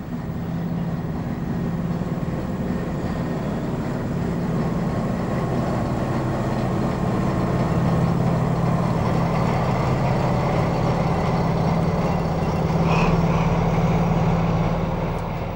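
A DB V100 diesel locomotive hauls a local freight train, its engine a steady low drone and rumble that holds for the whole stretch, moderately close with no talking.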